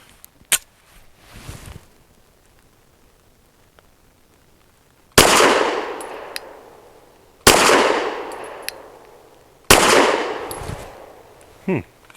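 A Saricam S19 pistol fires 110 grain jacketed hollow point rounds: three loud, sharp outdoor shots spaced a couple of seconds apart, each with a ringing tail, after quieter clicks and handling noise.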